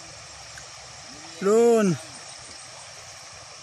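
Pangian River in Zamboanga del Norte runs with a big, strong current near a bridge, giving a steady close rush of flowing water under a brief spoken word.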